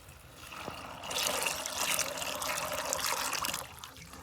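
Mak mao fruit being washed in water, with a continuous splashing and trickling that swells in the middle and stays fairly quiet.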